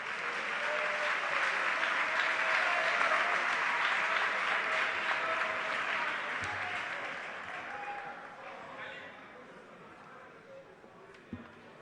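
A large audience applauds at the National Science and Maths Quiz finals, loud, sustained clapping that gradually fades out toward the end, with a few scattered claps and crowd noise remaining.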